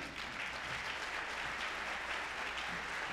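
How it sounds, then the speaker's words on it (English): Faint, even applause from an audience at a school honor society induction ceremony carries on steadily throughout, soft and somewhat distant. "your parents, I think, deserve a round of applause tonight"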